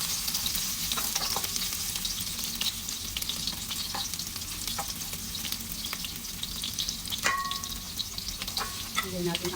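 Garlic, onion and ginger sautéing in a hot pan, a steady close sizzle and crackle of frying with occasional stirring clinks, heard alone throughout.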